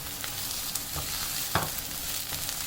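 Chopped onion and garlic sautéing in oil for a samosa filling, a steady close sizzle with occasional soft stirring scrapes and no talking.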